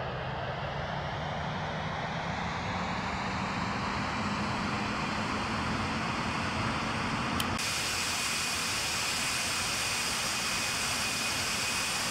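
A Norwegian Boeing 737-800 in a flight simulator during the takeoff roll: a steady, loud broadband jet roar with a whine that rises gradually in pitch as the engines spool and the aircraft gathers speed.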